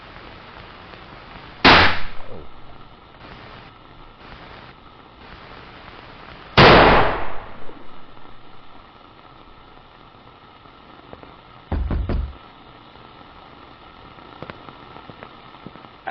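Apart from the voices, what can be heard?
gunshots in video game FM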